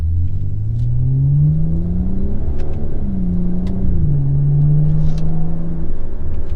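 A 2015 BMW 535xi with an inline six accelerating in sport plus mode, heard from inside the cabin as a steady engine drone whose pitch climbs, dips at a shift, then climbs again. No one speaks.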